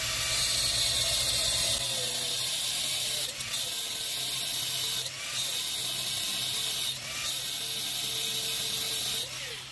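A diamond-edge cutting wheel bites into rebar, with a sustained high-pitched grinding whine broken by brief surges and dips, fairly close and heard without talk.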